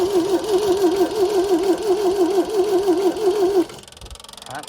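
A 1974 MG engine that has sat parked for 30 years cranks over on a hot wire with no key. The starter whirs in a steady, rhythmic wavering drone for a few seconds, then cuts off abruptly, leaving quieter background sound.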